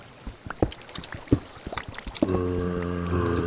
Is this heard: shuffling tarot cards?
no